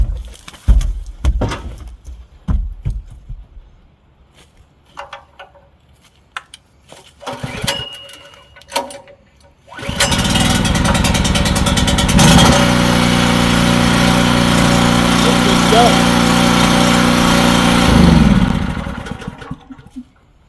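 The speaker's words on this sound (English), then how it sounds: "I need to be able to fire the generator up, hook it up to my home, and have heat for my family." A home backup generator engine starts abruptly after scattered handling knocks and clatter, then runs loud and steady for about eight seconds before cutting off, during preparation for winter ice and cold.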